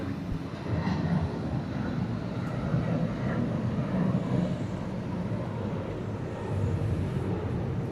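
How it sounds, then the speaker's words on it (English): A Delta Boeing 717 jet departs Atlanta airport, its engine roar a broad steady rumble heard from a distance that swells slightly and holds for the whole stretch. "Another Delta 717 going out."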